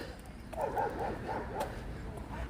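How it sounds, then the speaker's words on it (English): A puppy dog barking from inside a vehicle near an apartment complex, a short series of yips and woofs over steady background noise and faint chatter. "Puppy dog in the vehicle right there."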